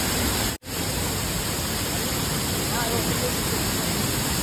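Anayadikuthu waterfall near Kochi, swollen with heavy rain-fed flow, roars as a dense, unbroken rush of water, loud and close, with one brief cut near the start.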